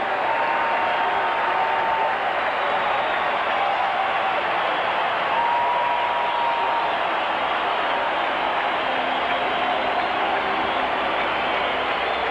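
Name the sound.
baseball stadium crowd cheering and applauding after scoreboard flashes noise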